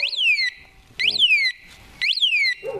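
An anti-theft alarm on an expensive bicycle sounds three loud rising-and-falling electronic whoops, each about half a second long, separated by short pauses, close by and alone.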